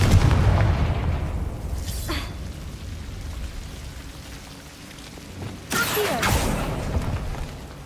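Two heavy, booming blasts from the Confringo fire spell in the Hogwarts Legacy video game, one near two seconds in and a louder, longer one later, set against a low rumbling background.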